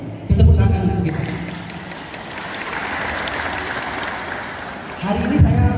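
A crowd at a university alumni reunion gives a round of applause: broad sustained clapping fills the middle, while a voice speaks at the start and again at the end.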